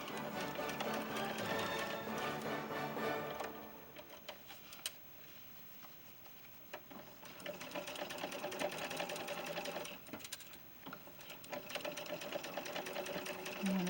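A sewing machine stitches black fabric for a doll's dress shirt, its rapid rhythmic whir running in bursts with a pause in the middle, soft and close.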